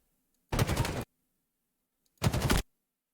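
Gunfire in an online shooter video game as the player takes hits: two separate bursts of rapid automatic fire, each about half a second long, loud and close, with silence between them.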